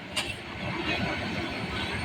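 Train carriages roll past up close, a steady broad rumble of wheels and bogies with a brief squeal near the start; one coach is said to have a loose suspension spring.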